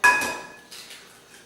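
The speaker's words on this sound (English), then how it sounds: "We're going to go ahead and crack our egg in." An egg cracked against a bowl and dropped into a chicken Parmesan casserole mixture of breadcrumbs, giving one sharp close knock with a brief shell crackle, then a softer follow-up tap a moment later.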